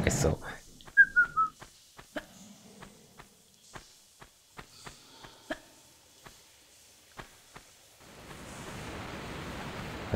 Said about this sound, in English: Innocent whistle.